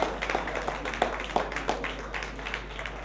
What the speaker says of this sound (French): On va l'applaudir très fort s'il vous plaît